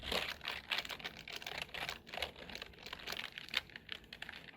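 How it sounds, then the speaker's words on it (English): A wipe rubbing across the tops of computer keyboard keys gives close, faint rustly crinkling and soft clattering taps in quick irregular bursts, with no voices. "you would just wanna wipe the top of the surface of the keyboard, of the keys"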